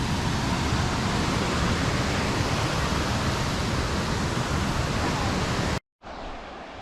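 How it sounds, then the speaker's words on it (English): Pistyll Rhaeadr waterfall heard from its top, a loud, unbroken broadband roar of falling water that cuts out abruptly near the end before resuming more quietly. "There you have it, top of the waterfall."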